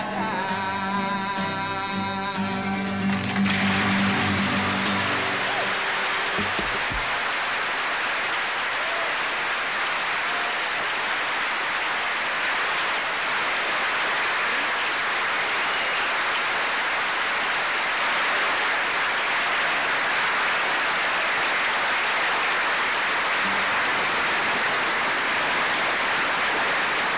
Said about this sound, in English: Bro got a whole standing ovation, man.